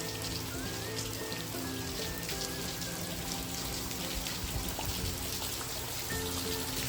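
Steady rain falls on surfaces outdoors, a continuous even hiss of drops with no pauses, moderately faint and heard alone without talk.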